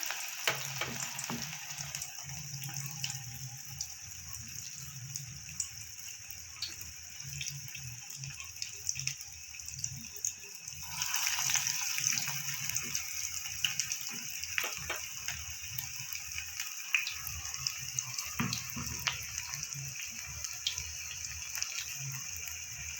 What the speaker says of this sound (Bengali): আমি বড়া শেপে ভেজে নেব। চ্যাপটা চ্যাপটা করে ভেজে নেব।